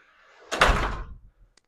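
Front iron entry door of a desert-style house with synthetic stucco, closing with a single heavy thunk and a brief metallic ring, followed by a faint click.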